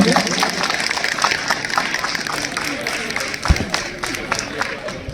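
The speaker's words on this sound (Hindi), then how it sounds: "जोरदार तालियों से सबका स्वागत कीजिए।" An audience at a school alumni meet claps in welcome, a loud continuous crowd applause with a voice audible underneath at times.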